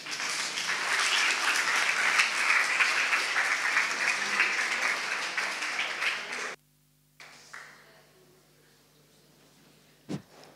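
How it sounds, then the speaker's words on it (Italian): Loud, sustained audience applause at a lecture on female contributions to human evolution, steady clapping for about six seconds before it cuts off abruptly, followed by a quiet room and a single brief thump. "Un applauso."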